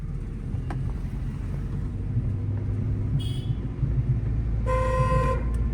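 A car horn honks twice over a low engine rumble in city traffic, a short toot followed by a longer, louder blast, close by.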